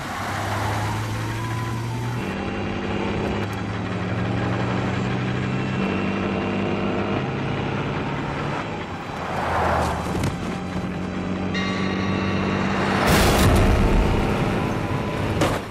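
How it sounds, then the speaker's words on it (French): Big rig truck engine in the 1971 film Duel, a deep sustained rumble with shifting tones, swelling louder near the end amid crashing noise, no talking. "Le camion n'a pas le temps de rétrograder et file droit dans le ravin."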